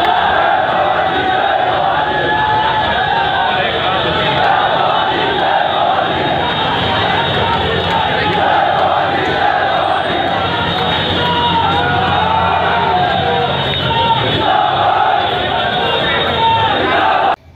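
A large crowd of Rajput protesters on the street, protesting the Sukhdev Gogamedi murder, shouts and chants together loudly and without pause, a dense roar of yells and voices.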